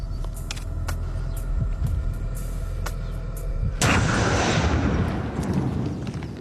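A blast from 30 grams of gunpowder splits rock: a sudden loud broadband boom strikes partway through, after a stretch of low rumbling, and leaves a rough, decaying roar.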